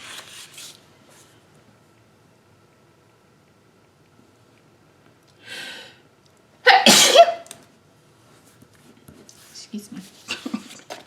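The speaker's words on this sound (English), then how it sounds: "I'm gonna sneeze." A single loud, sharp sneeze up close in a quiet room during a planner session, preceded by a faint inhale and followed by soft rustling and handling noises.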